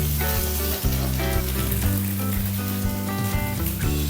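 Butter sizzling on a hot greased tava griddle before adai dosa batter goes on, a loud, dense, continuous crackling fry close by with a steady tone running underneath, no voices.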